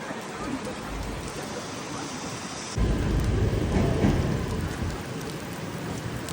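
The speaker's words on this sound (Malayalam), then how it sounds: "എന്ത് മഴ ഇത്" Heavy rain pours during a thunderstorm in Manchester, a steady downpour under a deep rumble of thunder that swells midway and slowly fades, with no talking.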